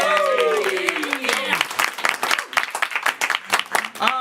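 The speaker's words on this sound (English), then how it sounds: "let's give a big round of applause for all our volunteers that helped us" An audience at a First Coast Comedy show bursts into dense, steady applause for the volunteers, following a brief spoken voice at the start; the clapping carries close and full to the end.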